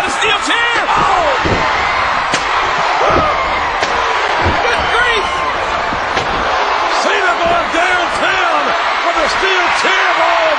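A steel chair slams into a wrestler during a WWF match, sharp impact cracks ringing out over a constant roaring arena crowd, with loud commentary talking throughout.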